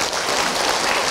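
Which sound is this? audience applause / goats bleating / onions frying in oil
audience applause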